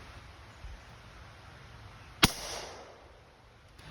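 A suppressed handgun fires a single sharp, muffled shot that fails to cycle the action, a lone crack followed by a brief decaying tail against quiet background.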